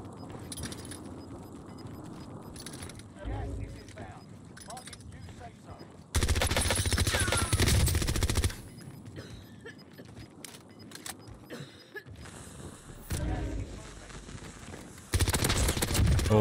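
Gunfire from an SMG match on Rebirth Island in Warzone: loud bursts of rapid automatic shots in several separate volleys, with quieter movement and clatter between them.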